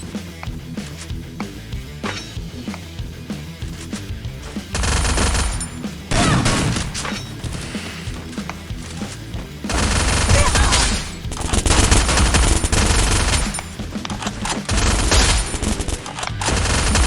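Rapid bursts of gunfire in the video game Free Fire, loud and close, with sustained automatic volleys and short pauses between them over a busy background.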